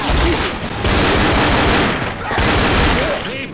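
Sustained automatic gunfire in the video game Left 4 Dead, dense rapid shots layered from several weapons, loud and close, with a voice shouting over the shooting.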